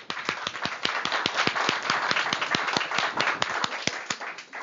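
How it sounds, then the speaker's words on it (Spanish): A group claps in a fast, fairly even rhythm, sharp hand claps repeating steadily for several seconds at close range. "Un aplauso para Dios"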